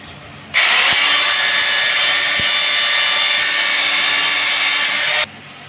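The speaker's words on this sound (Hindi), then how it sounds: "अब हम इसको ड्रिल करेंगे।" A power drill boring holes into a tiled bathroom wall for the bolts of a flush tank, running as one loud, steady whine for about five seconds, then cutting off abruptly.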